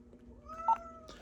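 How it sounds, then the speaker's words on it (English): A house cat gives a single drawn-out meow, close and fairly quiet, in an otherwise calm room with no one talking. "Quiet, cat. I'll get to you in a second."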